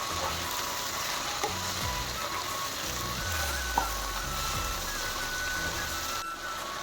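Turmeric is stirred into leafy lehati greens frying in oil, a steady close sizzle punctuated by occasional spoon scrapes and clinks against the pan.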